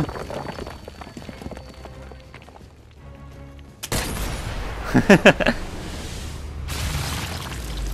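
Gunshots in the VR sniper game Sniper Elite VR, a cluster of sharp, loud reports bunched near the middle over a noisy battle background with no talk.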